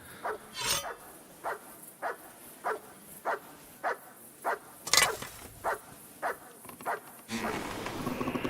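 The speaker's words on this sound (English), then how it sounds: "Why is he yelling so much, barking so much?" A dog in Kingdom Come: Deliverance 2 barks repeatedly, about a dozen short evenly spaced woofs at moderate distance, with one louder sharper bark midway and a brief burst of other noise at the close.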